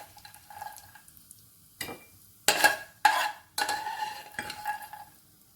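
Semolina roasting in a pan for halwa, stirred with a spoon: soft scraping and gentle sizzling, then several louder close scrapes and clatters against the pan, with no speech.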